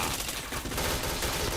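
Rapid, dense gunfire from a shooting video game rattles close and loud through a short burst, with no pause between the shots.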